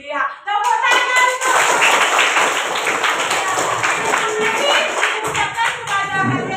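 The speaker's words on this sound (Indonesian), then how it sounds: "tepuk tangan." In a classroom, a group of children clap their hands together in a quick, busy patter that lasts several seconds, close and loud, mixed with young voices.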